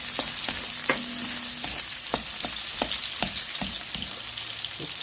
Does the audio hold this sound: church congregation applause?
no